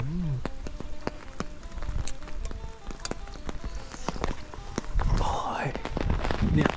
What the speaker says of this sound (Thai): ฝนตกปล่อยๆครับผมพ่อแม่พี่น้อง